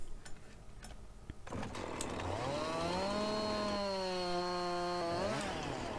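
A chainsaw cuts wood in the Farming Simulator 19 video game, the engine winding up after a few scattered knocks, then holding a loud, steady whining drone before dipping briefly near the end.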